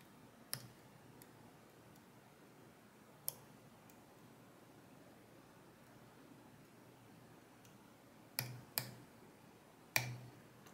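Sharp, isolated clicks from pins setting inside a Kaken KX3 lock as it is picked, a few spread out early and then a quick cluster of three near the end, close and faint over a quiet background.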